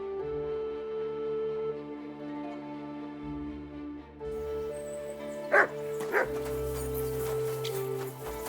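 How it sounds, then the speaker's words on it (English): A dog in the medieval video game Kingdom Come: Deliverance 2 gives two short, sharp barks over a steady droning game soundtrack, fairly close. "Good dog, Mutts. Show me"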